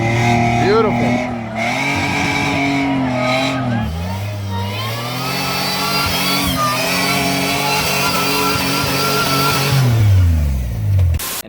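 A 2004 Toyota Tacoma rock crawler pickup's engine revs hard and bounces toward the limiter, pitch rising and falling in loud sustained surges, with people talking over it.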